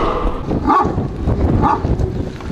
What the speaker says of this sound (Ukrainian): Собаки постійно гавкають